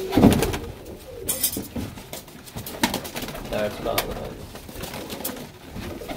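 Pigeons coo softly and intermittently amid a busy scene, with someone talking over them and scattered clatter and rustling nearby.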